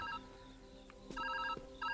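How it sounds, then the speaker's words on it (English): A retro-futuristic telephone rings in the Viewfinder video game, with bursts of bright electronic trilling that repeat over a soft musical background, close and clear with no talking. "Our retro-futuristic phone is ringing."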